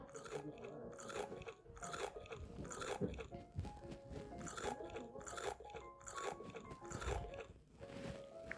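Biting and crunching into tanghulu, candied fruit in a hard sugar shell, with repeated close crisp crunches and chewing running throughout.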